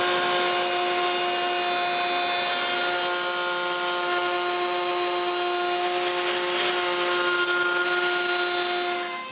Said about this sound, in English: I finish the shape with a template bit.